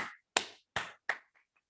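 Four sharp, close hand claps in a quick, slightly uneven rhythm, each with a short decay, followed by two faint taps as the clapping fades out.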